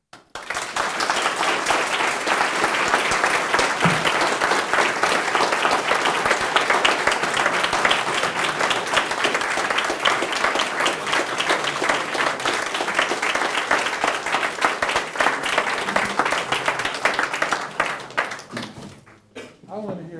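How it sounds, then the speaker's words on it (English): An audience at a distinguished lecture gives sustained, dense applause with steady clapping that holds at an even level for most of the span. It tapers off near the end, where a voice starts to come through. "Another round of applause for the inspirational talk."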